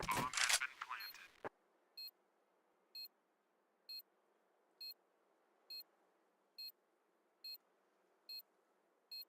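A planted bomb in Counter-Strike beeps at short, steady intervals after a brief burst of game noise, each electronic tone clear and isolated over a quiet hum.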